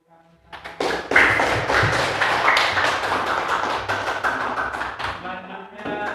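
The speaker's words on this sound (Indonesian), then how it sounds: "Beri tepuk tangan." Students in a school classroom break into a round of applause, dense clapping starting loud and near after a quiet moment and running steadily for about five seconds before tapering off.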